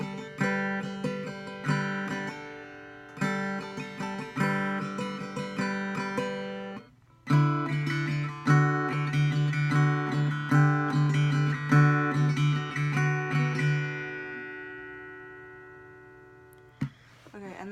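Slowed-down acoustic guitar riff from a song with the same strumming pattern, two passes of ringing chords and plucked notes with a short gap between, close and clear, ending with a brief knock and no voices.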